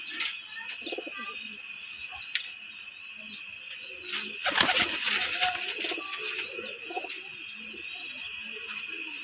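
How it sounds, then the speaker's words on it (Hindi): Soft coos from flying pigeons murmur under a steady high insect-like whine, with a louder flurry of bird calls and rustling in the middle. "ये देख मेरे उड़ने वाले कबूतर"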